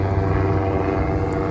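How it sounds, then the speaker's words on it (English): A tiny helicopter drones steadily overhead, its engine and rotor forming a constant, fairly loud buzzing hum with rich low tones and no voices over it. "Tiny little helicopter."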